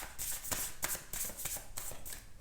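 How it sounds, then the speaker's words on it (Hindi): Tarot cards being shuffled and pulled, a rapid papery riffling in repeated bursts about every half second, close and steady with no voices. "let me just pull some more cards"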